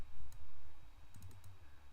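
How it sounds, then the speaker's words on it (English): A handful of sharp, quick mouse clicks while playing a farming video game, close and fairly quiet, spaced irregularly over a low background hum. "I'm just clicking around these little coins above the heads of things"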